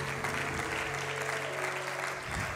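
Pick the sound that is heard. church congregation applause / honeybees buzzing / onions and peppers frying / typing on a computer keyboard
church congregation applause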